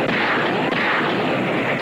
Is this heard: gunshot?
yes